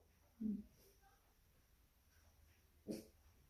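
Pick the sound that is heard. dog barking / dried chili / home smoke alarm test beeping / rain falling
dog barking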